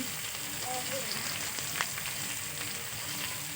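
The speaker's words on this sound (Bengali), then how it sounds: "আদা মশলাটা ভালো করে কষিয়ে নেবে" Ginger spice paste fries in a pan with a steady, close sizzle that hisses evenly throughout, with faint scrapes of stirring mixed in.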